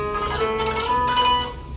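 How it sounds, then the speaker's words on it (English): Classical guitar tremolo played with four strokes per beat, a quick shimmering run of repeated plucked notes over a steady bass line, close and alone, tapering off at the end. "Mine, I was using classical tremolo, which is 4 strokes."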